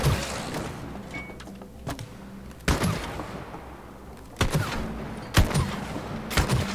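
Shooting in the video game It Takes Two, with several sharp gunfire bursts spaced a second or two apart over quieter game ambience, fairly close and without speech.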